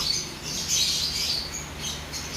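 A bird being held in someone's hands gives soft, rapid chirps and squeaky calls in a short burst, close and fairly faint, with no talk.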